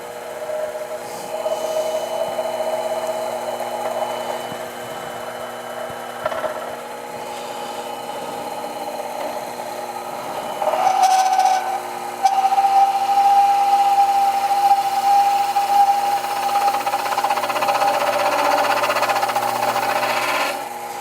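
Small metal lathe running while facing and turning, a steady motor hum with a whining tone, joined midway by a higher, shrill cutting squeal that holds for several seconds; no voices.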